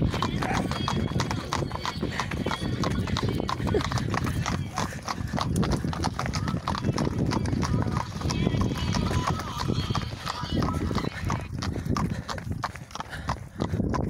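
Horse hooves clip-clop steadily and close, with a horse whinnying, people talking over the rhythm throughout.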